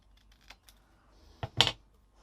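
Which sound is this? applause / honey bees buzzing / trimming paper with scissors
trimming paper with scissors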